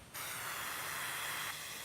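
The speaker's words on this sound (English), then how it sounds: "You're watering the plants with a mister?" A plant mister sprays water in a video game, a single hiss-like spray burst lasting over a second, close and fairly loud, then cutting back to a softer background.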